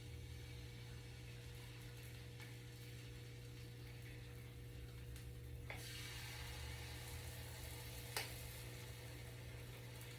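Faint, steady sizzle of vegan strawberry pancakes cooking on a buttered grill pan, a soft continuous crackle over a low hum with a couple of light clicks.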